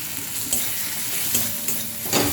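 Spices, including meat masala, sizzle with stingray fish pieces in a hot pan, with spoon scrapes and stirring strokes recurring every second or so over a constant frying hiss.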